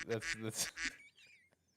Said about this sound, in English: Damn ducks.